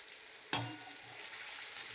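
Potatoes fry in oil over low heat in a pan, a constant bright sizzle opened by a single sharp scrape of a spoon stirring them, with no voices.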